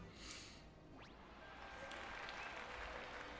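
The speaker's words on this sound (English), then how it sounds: "Tokyo Racecourse rumbles with the sound of thunderous applause after the race." Crowd applause at Tokyo Racecourse after a race in the Uma Musume video game, a steady wash of clapping and cheering that continues throughout, with game sound effects layered over it.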